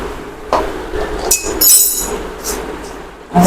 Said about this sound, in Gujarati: તેને મિક્સ બરાબર મિક્સ કરી લેશું